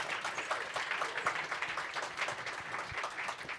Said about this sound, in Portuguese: Vamos aplaudir por isso?